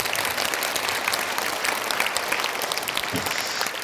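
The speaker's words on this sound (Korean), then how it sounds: "문강 스님을 뜨거운 박수로 맞이해주시기 바랍니다." A conference audience at a Buddhist memorial academic symposium gives warm applause to welcome a monk speaker, a dense, continuous crowd clapping that stays loud and even from start to finish.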